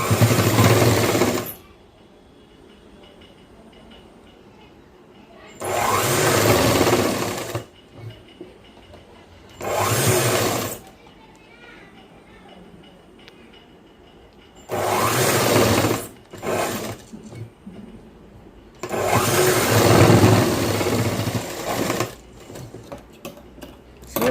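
A sewing machine stitches around the folded pocket of a boy's school uniform shirt. It runs in about five loud, whirring bursts, each a few seconds long, separated by quiet pauses, and is heard close up with no speech.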